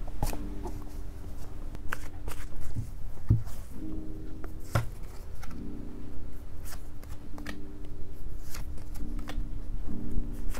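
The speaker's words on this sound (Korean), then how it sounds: "카드부터 뽑아볼게요." Tarot cards shuffled and drawn in a quiet room, a steady papery riffling and sliding with repeated bursts and soft flicks running throughout, fairly close and alone with no voices.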